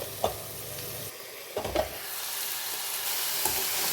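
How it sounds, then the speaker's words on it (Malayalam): Pumpkin leaves frying with chilli and garlic in a pan, a steady sizzle broken by a few scraping stirs of a spoon, close and fairly loud. "നല്ലോണം ഇളക്കി യോജിപ്പിക്കാം"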